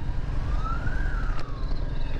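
An ambulance siren wails in a single rising and falling sweep, fairly faint and distant, over steady low traffic rumble.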